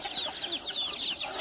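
Chickens cluck and chatter in a dense, continuous flock at a permaculture farm in Kenya, close and busy without pause.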